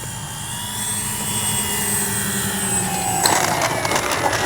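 A radio-controlled B-25J warbird scale model airplane lands on a runway with flaps down, its steady engine drone continuing close by, swelling in a rougher burst near the end as it touches down. No one speaks.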